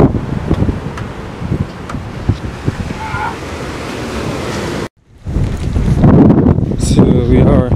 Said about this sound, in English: And we're back outside in the wind.